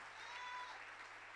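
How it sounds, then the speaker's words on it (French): Church congregation clapping as an offering of praise to the Lord during a bilingual service, a brief, soft wash of many hands heard from a distance. "Give the Lord a big clap offering once again."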